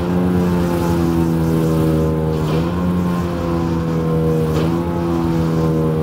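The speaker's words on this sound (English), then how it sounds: "We give it some throttle." A Straw Master straw blower's engine runs loud and steady with the fan spinning, its tone rising slightly twice as the throttle is opened.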